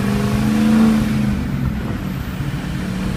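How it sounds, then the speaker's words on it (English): A Ford F250 turbo diesel truck with a six-speed revs and accelerates from first gear with a deep rumble and a rising whine as the turbo spools, then settles into a steady drone. "once this truck spools up, it takes off."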